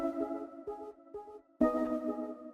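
A dry synth pluck built in FL Studio for a future house track, playing short bright harmonic notes in a loose rhythmic pattern, with a louder, denser phrase entering midway; no talking.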